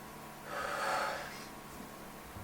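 One slow, deep breath is drawn and released close to the mic, with a soft airy swell that peaks and fades over about a second against a quiet background.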